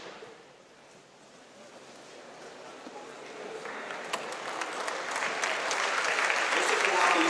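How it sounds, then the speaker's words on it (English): Applause for students at a high school academic assembly, broad crowd clapping in a gym that swells steadily louder over several seconds, with faint voices mixed in. "Let's applaud these students willing to take on a challenging rigorous coursework."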